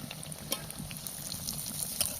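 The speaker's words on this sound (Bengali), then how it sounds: "কড়াইতে সাদা তেল গরম করতে বসিয়ে দিলাম তেল সামান্য গরম হতে এক এক করে দিয়ে দিলাম" Prawn cutlets frying one by one in hot white oil in a wok give off a soft, steady sizzle with occasional small crackles and pops, heard alone without talk.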